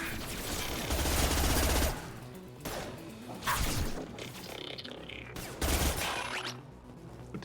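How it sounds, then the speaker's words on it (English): A high-impact gunshot in the video game Mass Effect 2 arrives among heavy, chaotic combat bursts, loud booming blasts and crashes repeating irregularly against a dense noisy backdrop. "Firing a high impact shot"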